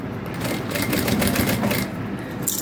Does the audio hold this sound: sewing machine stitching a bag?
yes